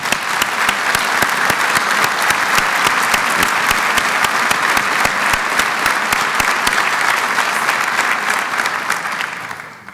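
An audience at a university State of the University address applauds the Charter Impact Lab team with a full, sustained round of crowd clapping, close and loud, with sharp individual claps standing out before it tapers off at the end.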